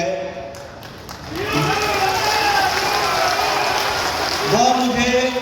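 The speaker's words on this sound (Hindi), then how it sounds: "जो मुझे नारों की आवाज सुनाई दे रही है और जो तालियों की गड़गड़ाहट की आवाज सुनाई दे रही है" A rally crowd at an open-ground election meeting cheers and applauds with sustained, dense, loud noise that swells near the end, with a voice carrying over the top.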